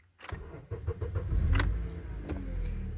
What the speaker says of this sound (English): Okay, now it says to start the engine.